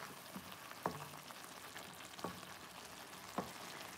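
Tomato mabo tofu frying over high heat, a steady close sizzle with three sharp scraping clinks of a utensil stirring the pan spaced about a second apart.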